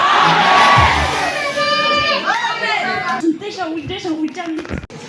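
A church congregation at a deliverance service shouts amen together in a loud, massed burst of voices that rises and then trails into scattered calls.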